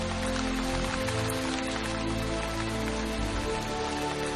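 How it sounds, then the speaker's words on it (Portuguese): Steady, dense rain pattering and hissing on hot rocks, loud and continuous throughout with no voices. "Chuva caindo nas rochas quentes."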